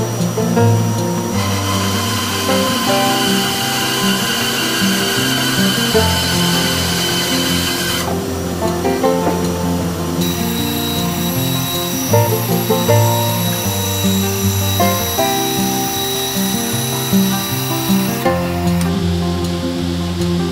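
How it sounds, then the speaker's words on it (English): A bandsaw cuts out wooden bench shapes in a steady, loud whine, its pitch shifting slightly as the blade moves through the wood, with no talk over it. "So I'm going to go ahead and cut these out on the bandsaw."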